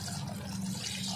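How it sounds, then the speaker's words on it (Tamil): Water pours steadily into a pan of mutton curry, a continuous soft splashing and trickling that stays close and even for about a second without any talk. "இப்போ இது கூட பார்த்திங்கன்னா நம்ம தேவையான அளவுக்கு தண்ணி சேர்த்துக்கலாம்"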